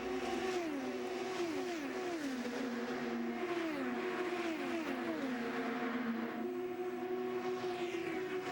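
IndyCar race cars in a qualifying heat at the Iowa Corn Indy 250, engines whining and repeatedly bouncing off the rev limiter in the draft, a steady distant high-pitched drone with overlapping rising and falling pitch sweeps.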